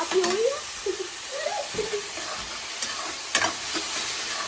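Onion frying in a pan for kadai paneer, a steady close sizzle with scraping stirs and utensil knocks, while someone talks over it.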